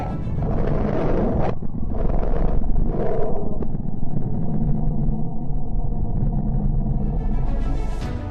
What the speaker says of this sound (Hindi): बुध ग्रह की आवाज